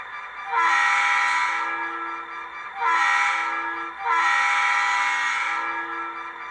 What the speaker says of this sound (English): I love them old Leslie Conrail horns, and they nailed it with this one.